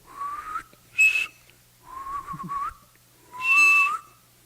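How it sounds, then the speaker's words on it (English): Someone whistles a few short, breathy notes with pauses between them, close up and alone, the pitch wavering and sliding. "I can make whistling sounds here and there."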